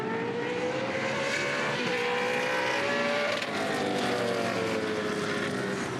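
Touring Car Masters race cars roar around the Winton circuit, engines screaming loud and continuous as they climb and drop through gear changes, with further cars layered in the background.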